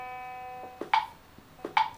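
A single steady musical note, clear and tonal like a keyboard, is held for about one beat, followed by a few soft, dull knocks.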